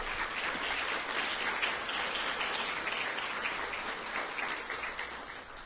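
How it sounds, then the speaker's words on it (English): Banquet audience at an awards dinner clapping in sustained, even applause, a full room of hands carrying on at steady volume and tapering slightly near the end. "I think all of you really owe her a round of applause for all the work she's done here."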